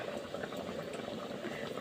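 Luchi frying and puffing up in hot oil: a dense, continuous bubbling sizzle, close and even, with no pauses over a short stretch.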